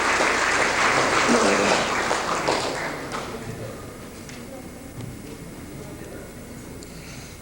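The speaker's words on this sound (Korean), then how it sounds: "여러분 큰 박수로 맞아주시기 바랍니다" Loud, dense applause from an audience at a Korean award ceremony for neighbour-helping honourees, strongest at first and then tapering to a quieter patter of scattered claps.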